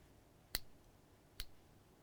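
Two sharp, close clicks about a second apart from the locking mechanism of a Tilta carbon fiber tabletop tripod, crisp against near silence.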